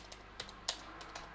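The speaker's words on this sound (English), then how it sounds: "Well, Jimmy's typing away then." Faint, sparse keystrokes tap on a computer keyboard in a quiet room during live sim-racing commentary, a few scattered clicks over a soft background hum.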